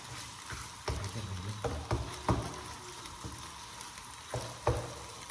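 Vegetables stir-fried in a pan at home, a steady sizzle broken by repeated scraping stirs and clanks at irregular intervals, close and fairly loud with no talking.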